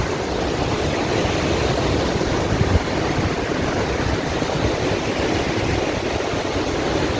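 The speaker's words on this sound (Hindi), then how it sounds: "खामोश वाटरफॉल, खामोश" Khamosh Waterfall in Skardu, Pakistan roars as a loud, unbroken rush of falling water close by, a steady broadband wash with no voices.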